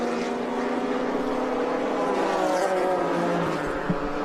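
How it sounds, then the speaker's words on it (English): Black Porsche and BMW race cars running nose to tail through the corkscrew at a vintage motorsport event, engines roaring loud and steady with harmonic whine shifting as they pass, no talk. "That black Porsche running right behind the BMW."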